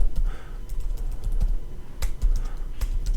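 Steady close-up typing on a computer keyboard as a single-line code comment is written, a continuous patter of key clicks with occasional louder keystrokes.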